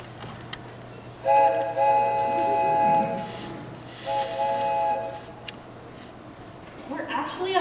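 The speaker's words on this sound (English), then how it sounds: "Now imagine this train taking up into the forest." A theatrical train sound effect plays during a high-school one-act stage play, with two sustained whistle-like blasts and rumbling, heard under and between actors' voices.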